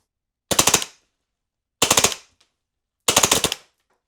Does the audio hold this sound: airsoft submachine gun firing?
yes